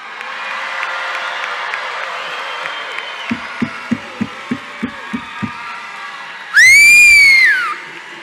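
A loud, piercing whistle rising then falling, held for about two seconds after a series of evenly spaced low thumps over a murmuring crowd at a graduation commencement ceremony.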